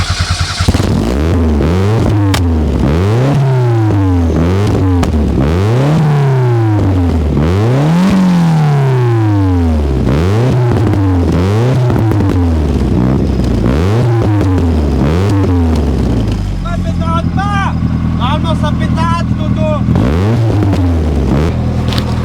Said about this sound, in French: Attends, je te fais écouter parce qu'en termes de bruit